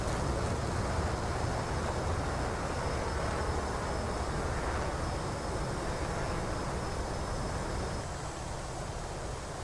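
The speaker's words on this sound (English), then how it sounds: "An F-18 launches." An F/A-18C fighter jet's catapult launch from an aircraft carrier in the DCS flight simulator, heard as a loud, steady broadband jet roar that fills the whole span and eases slightly near the end.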